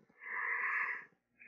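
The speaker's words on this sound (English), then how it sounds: "I'm going to yawn again." A person gives one drawn-out, breathy, voiced yawn lasting about a second, close to the microphone and otherwise alone, followed by a short trailing breath.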